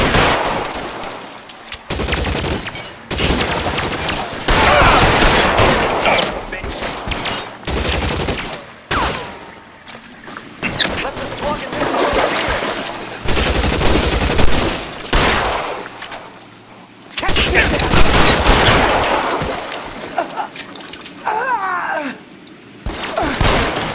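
Repeated bursts of gunfire in a video game shootout in L.A. Noire, loud and continuous with short gaps, rapid volleys overlapping throughout.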